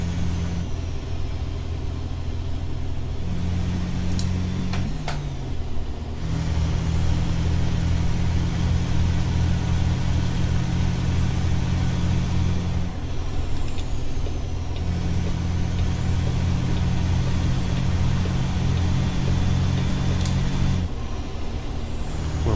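A Kenworth W900L semi truck engine in American Truck Simulator drones steadily with a deep, full rumble, its pitch rising and falling as gears change, plus brief hisses and clicks.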